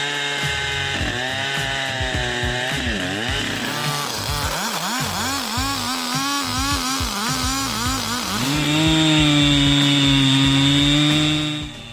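A chainsaw engine revs loudly and steadily, its pitch dipping and rising as it bites through a large tree, then settling into a high sustained whine.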